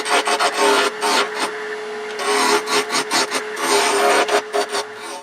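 A lathe tool cutting a wood wand blank on a lathe: rasping, scraping bursts of cutting come in irregular clusters with short gaps between passes, close and fairly loud.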